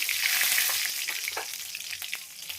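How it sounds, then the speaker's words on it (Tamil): Mustard seeds and curry leaves sizzle in a hot kadai for a katla fish gravy, a loud hissing crackle with scattered pops that eases slightly over a few seconds, close up and without talk. "இதில் கடுகு போட்ட உடனே கருவேப்பிலையும் போட்டுக்கலாம்."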